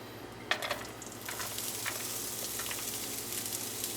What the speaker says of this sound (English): on my pan I'm going to add my oil. And then I'm going to add my onion